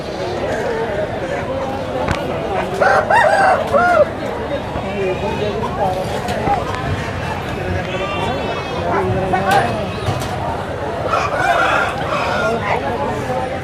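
Roosters crow and chickens cluck in a busy yard in Anakapalli district, India, while people talk over the birds throughout.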